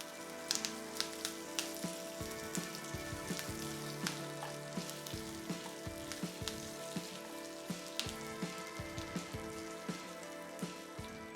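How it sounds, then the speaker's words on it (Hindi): Curry leaves and dried red chillies fry in hot oil, giving a dense, steady sizzle full of crackling pops that runs throughout at moderate loudness, with no one speaking. "फिर हम इसमें डालेंगे थोड़े से करी पत्ता, इसे भी फ्राई करेंगे।"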